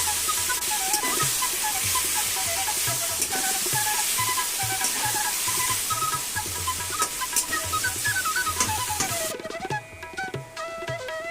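Steamed prawn dish with taro leaves stirred gently in a pan, a close, steady sizzle with soft rhythmic spatula scrapes, while background music plays throughout.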